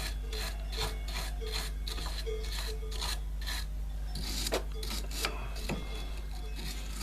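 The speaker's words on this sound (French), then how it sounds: "brosse bien le boulon qui bride la rotule," Wire brushing scrubs the bolt that clamps a ball joint on a Renault Laguna 1 phase 2, already soaked with penetrating oil. The close, rhythmic rasping strokes repeat evenly, with no voices.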